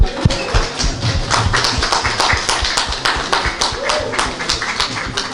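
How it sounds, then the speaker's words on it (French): An audience at an evening event claps, a burst of brisk, overlapping hand claps heard close and fairly loud, mixed with voices in the room. "je vous demande d'applaudir ce soir"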